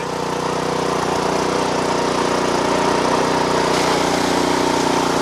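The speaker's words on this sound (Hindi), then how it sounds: "भाई देख लो मशीन चालू है और ये अभी पानी डाल रहे हैं इंजन के ऊपर।" A Sraja power weeder's small engine runs steadily while water is poured over it, giving a loud, even mechanical drone with a constant hum and a faint splashing hiss throughout.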